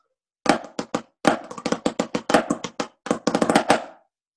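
Quick, crisp snare drum strokes in short bursts, including a left-hand grace-note flam before a five-stroke roll, close and dry with no talking.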